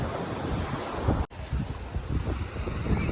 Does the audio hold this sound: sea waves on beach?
yes